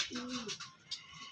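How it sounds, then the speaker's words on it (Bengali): A male Kalshira pigeon gives one short, soft coo, close and faint, with a little background noise. "এই দেখুন একটা কালশিরা নর পায়রা"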